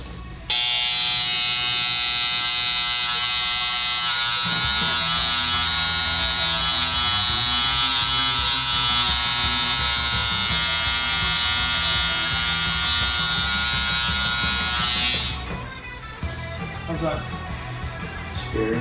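Steady, loud electric buzzing of a tattoo machine running continuously up close in a tattoo shop, with faint voices talking underneath before it stops.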